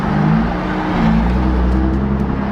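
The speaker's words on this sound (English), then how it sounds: "It's a car." A car, apparently a GT-R out in the snow, drives past up close with a loud, steady engine roar and whirring tyres, heard alone.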